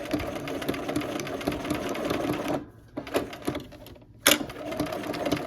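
A sewing machine runs steadily through decorative stitching, its rapid needle chatter continuous and close, pausing briefly midway before a sharp clunk and a resumed whir.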